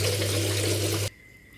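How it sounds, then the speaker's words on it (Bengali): Country chicken meat is washed under a running tap, with a close, steady gush of water that stops abruptly after about a second. "ভালোভাবে পানি দিয়ে ধুয়ে নিতে হবে"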